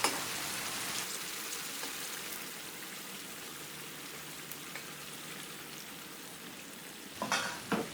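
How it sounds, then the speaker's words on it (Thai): Pork ribs simmering in a reducing Thai red curry paste sauce, giving a soft continuous bubbling sizzle with a few scraping stirs near the end; no talking. "เราก็จะเคี่ยวต่อไปให้น้ำงวดนะคะ ให้น้ำเครื่องแกงซึมเข้าไปในเนื้อหมูค่ะ"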